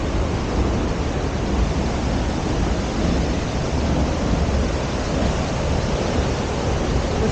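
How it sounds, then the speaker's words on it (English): A powerful waterfall at Grand Portage, Minnesota, roars in a steady, dense broadband wash of falling water, loud and continuous throughout with no pauses. "I did not expect that much of a waterfall"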